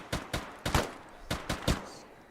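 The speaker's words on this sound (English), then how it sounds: "He's shooting at me though, so I thought I'd shoot back." Gunfire in the military shooter Arma 3: about seven sharp shots in two quick bursts of three or four, fairly faint, with no talk.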